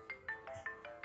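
A telephone ringtone chirps in quick repeated bursts, about five short electronic trills in a second, clear and fairly close with no talk over it.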